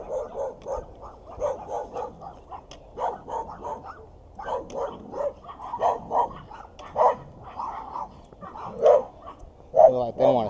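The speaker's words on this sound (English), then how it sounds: "Come up on some barking dogs here in a minute." Several big dogs bark in repeated bursts at mid distance, some sharp yips among them, mixed with a voice and steady outdoor background noise.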